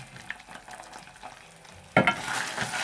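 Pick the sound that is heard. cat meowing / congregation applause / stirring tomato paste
stirring tomato paste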